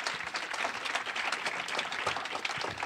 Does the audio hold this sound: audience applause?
yes